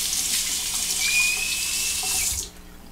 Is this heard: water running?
yes